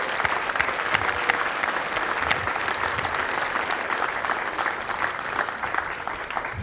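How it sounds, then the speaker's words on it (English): A large crowd applauds continuously at an Air Force basic military training graduation ceremony, a steady wash of clapping at constant loudness throughout. "Let's give all the families a round of applause"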